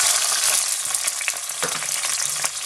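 Garlic and ginger paste with five spice fries in hot oil on high heat, a steady close sizzle broken by a few sharper pops and stirring clatters, with no talking.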